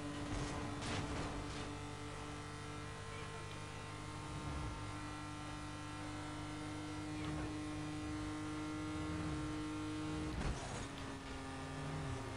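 Steady buzzing engine drone of a car in a Need for Speed Most Wanted drag race, with sustained harmonic whine and a few brief shift blips and bursts, continuous throughout.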